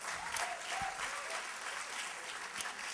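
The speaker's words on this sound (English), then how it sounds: "One round of applause for Sriram." An audience applauds at a humorous speech contest, with steady, dense clapping that lasts the whole stretch and sounds close and even.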